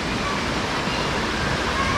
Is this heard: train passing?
no